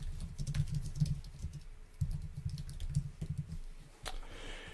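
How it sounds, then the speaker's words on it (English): Quick, light clatter of typing on a computer keyboard, with irregular bursts of keystrokes close by and a short pause near the end. "If I could type."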